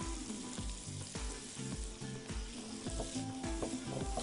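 Butter sizzles in a hot pan, a steady broadband crackle running the whole time beneath background music with a regular thumping beat and sustained tones.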